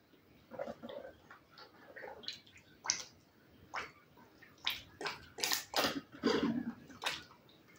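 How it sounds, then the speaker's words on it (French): Seed pots of cotton, henbane and datura being watered, with irregular close splashes and trickles of poured water, some sharper drips and spatters, fairly quiet overall with no talking. "j'y vais, j'arrose, je vais même laisser un peu d'eau"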